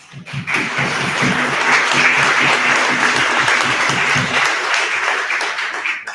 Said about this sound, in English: So from me to you, a round of applause to all of you.